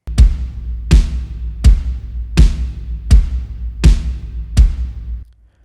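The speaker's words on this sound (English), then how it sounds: "That's basically just kick and toms going on right there." Studio Drummer VST kick and tom hits in a steady pattern of seven strong, booming strikes about 0.7 seconds apart, each with a deep low thump and a quick decay, close and loud with no talking.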